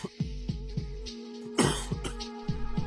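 An elderly man coughs repeatedly in short, rough bursts, close and fairly loud, with a harsher throat-clearing hack in the middle.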